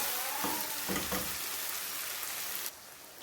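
Urad dal (daal mash) frying in oil in a pan, a steady soft sizzle with a few brief scraping stirs early on, close and continuous, dropping slightly quieter near the end.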